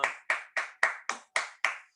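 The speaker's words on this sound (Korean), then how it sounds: "우리 박수로 우리 모든 예배 하나님의 영광 올려드리겠습니다." Seven sharp, evenly spaced claps from a church youth-group congregation at a Sunday service, steady and fairly close, with no voices.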